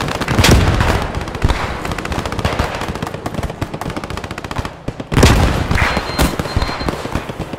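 Loud, rapid gunfire rattles nonstop in a squad-based shooter video game, dense automatic bursts punctuated by two heavier booming blasts.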